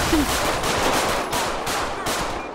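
Rapid automatic gunfire from the video game GTA 5 during a Blaine County police patrol, loud and close, with bursts of shots running almost the whole way through.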